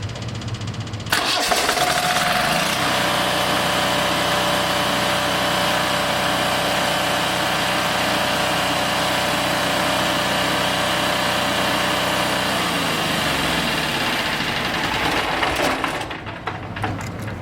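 A PowerGen OK10000DE diesel generator starts up and runs with a loud, steady low engine drone for about fifteen seconds, then shuts down and falls quiet.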